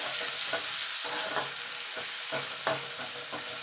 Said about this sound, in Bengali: এবার পেঁয়াজটাকে একটু ভাজা ভাজা করে নেবো